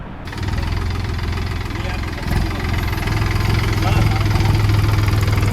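Tractor engine running steadily for kitchen garden preparation at a school, a close, loud, low chugging idle with a rhythmic knock that rises slightly toward the end, with a voice speaking over it.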